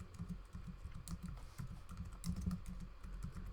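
Steady typing on a computer keyboard while entering PHP code, a continuous run of quick close key clicks with no talking.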